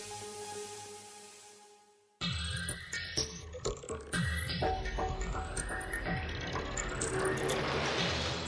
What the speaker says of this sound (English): Then automated machines install the remaining components.